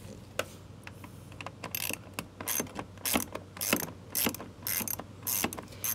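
A ratchet loosens fog light bolts on a Ford Focus, giving fast, close clicking bursts in uneven runs over a faint steady hum.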